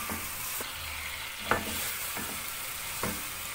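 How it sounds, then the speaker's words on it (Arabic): Chicken being stirred in a pan with turmeric, curry and biryani spices, a soft steady sizzle broken by a few scraping stirs of the spoon, close and fairly quiet with no talking. "نقلب المكونات دي ببعض."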